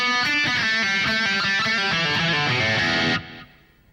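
A distorted electric guitar plays the second lick of a solo, a quick run of picked notes that rings loud and alone for about three seconds before cutting off abruptly.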